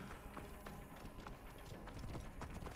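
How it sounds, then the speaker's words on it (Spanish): Horse hooves clip-clop in Assassin's Creed Origins, a quick uneven patter of steps that is fairly faint, heard alone with no talk. "Ah, es un caballo."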